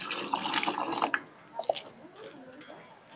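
Cold water is poured over cashews in a cooking pot: a few soft, brief splashes and drips, close and quiet, scattered through a short moment.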